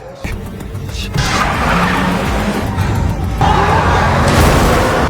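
Cars screech and skid during a chase scene in a Korean crime drama, long loud tire squeals over roaring engines that swell in two waves, dense and chaotic.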